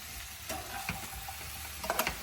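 Ridge gourd and tomato frying in a pan while being stirred, a constant close sizzle with soft scraping and clinks of the spoon, a few sharper taps near the end, no voices.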